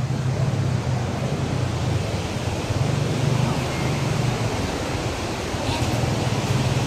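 Strong water rushes past a rock formation with a cave beneath, making a loud, steady, close roar that fills the whole stretch without a break.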